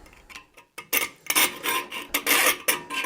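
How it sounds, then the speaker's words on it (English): Hand filing of a hard template, a series of rasping strokes that start soft and grow louder and quicker, each scrape sharp and close with brief pauses between. "So harmonics has a lot to do with your filing noises."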